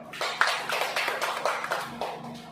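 An indoor gathering at a school or training event breaks into applause, a dense patter of many hands clapping at once that holds steady for a couple of seconds, moderately close.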